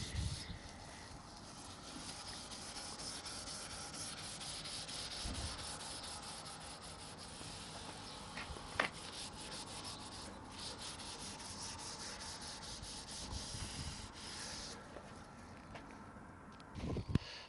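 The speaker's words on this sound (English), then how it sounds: "rub the old finish off. We're going with the grain, don't go across the grain because you don't want to scratch" Steady hand rubbing with the grain strips old finish from the wooden veneer of a Tannoy Windsor speaker cabinet, a continuous close scrubbing texture running throughout with brief louder strokes near the end.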